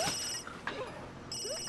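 A telephone rings in The Sims 3 life simulation game, with short electronic ring bursts at the start and end over busy game ambience and chatter-like sounds.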